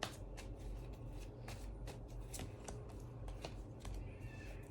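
Tarot cards being shuffled by hand, a faint continuous papery riffling with light flicks, quiet and steady against a low background hum.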